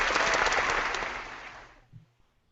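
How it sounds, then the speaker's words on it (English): Applause heard over a remote call connection, a few seconds of dense clapping that fades out abruptly and drops to near silence. "The applause just knocked me out."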